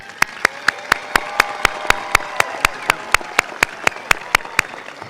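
A graduation ceremony audience at Piedmont Community College applauds, with one loud, close clap repeating at a fast, very even beat over the softer, steady clapping of the crowd.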